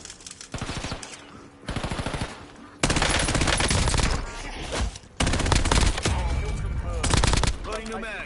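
Rapid automatic fire from a weapon in Call of Duty, several long bursts broken by brief pauses, loud and close, with a little voice between bursts.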